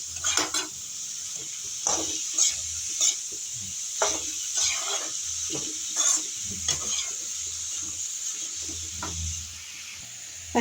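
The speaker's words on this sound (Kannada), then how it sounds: "ಫ್ರೈ ಆಗಬೇಕು, ಅಲ್ಲಿ ತನಕ ಚೆನ್ನಾಗಿ ಫ್ರೈ ಮಾಡ್ಕೊತೀನಿ." Chopped onion frying on high flame in a pan, a constant bright sizzle under repeated scraping and clanking strokes of a spatula against metal, close and lively.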